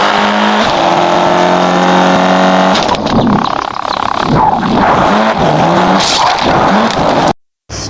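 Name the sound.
car accelerating fast on race track in Drive Zone Online video game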